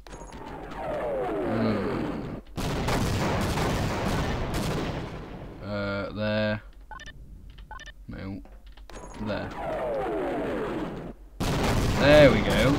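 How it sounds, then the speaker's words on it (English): In Half-Life, a wall is blown up with loud blasts and rumbling bursts, broken by short gaps and game effects, with a voice talking over parts of it. "Now we bomb that wall."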